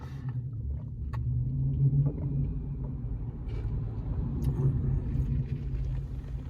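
A car roars and revs inside a parking garage, a steady reverberant engine rumble rising and falling at moderate distance, with no talking.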